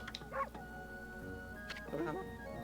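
Amy the dog barks in the video game Okami HD, two short yipping barks a moment apart, heard over steady game music and ambience.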